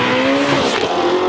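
A modified Ford Mustang V8 roars loud and close in a brief burst, its engine note sweeping through harmonics with tire squeal layered on top, no voices present.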